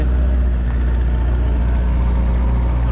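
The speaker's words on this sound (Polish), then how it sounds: "jedzie samochód" A passing car on a parking lot blends into a steady, loud low engine rumble that holds evenly throughout with no clear rise or fall, a broad continuous road-vehicle drone.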